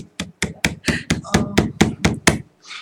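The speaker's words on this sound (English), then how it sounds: "to sharpen it, you need a hammer" About ten quick, sharp hammer taps while sharpening a crude handmade tool on a hard surface, close and evenly spaced, sounding alone.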